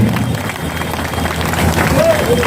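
Crowd applauding at a sugarcane cooperative society's annual general meeting to welcome the MLA, steady dense clapping throughout with some voices mixed in.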